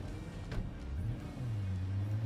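A car engine in Cyberpunk 2077 climbs in pitch as it accelerates, a steady mid-range drone that rises and settles into a sustained tone, heard alone.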